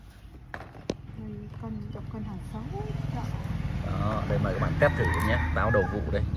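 A rooster crows at an apple orchard in Luc Ngan, Bac Giang, its calls rising over steady outdoor background noise while people talk nearby.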